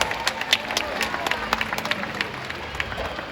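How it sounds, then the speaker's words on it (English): An audience at an orca show claps in a scattered, uneven burst, with individual sharp claps standing out over a murmur of crowd noise. "Let's give a round of applause to our volunteers."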